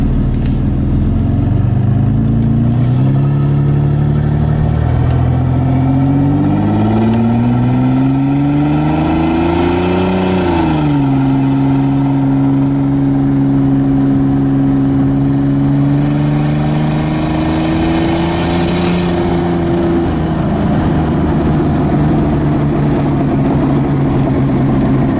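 A turbocharged M103-engined Mercedes 190E drives down a street, its engine note rising and falling through the gears with loud, steady revving and a faint turbo whistle climbing overhead, heard close and alone without talk.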